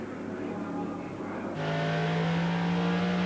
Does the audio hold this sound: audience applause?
no